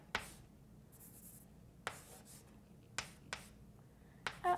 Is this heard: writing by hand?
yes